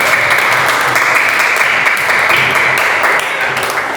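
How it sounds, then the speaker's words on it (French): Classroom children applaud the winner of a word-reading game, a dense, steady burst of clapping that fills the room and holds at full strength throughout. "Allez, applaudissez. Applaudissez Mohamed."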